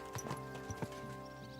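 Horse hooves clip-clop in Kingdom Come Deliverance 2, a few quiet, uneven hoofbeats at a slow walking pace, close by over a low steady ambient hum.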